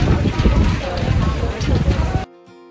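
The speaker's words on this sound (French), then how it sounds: "le vent" Gusty wind buffeting the microphone near a backpack by a pool in Douala, Cameroon, with a rough, rumbling roar that cuts off abruptly near the end.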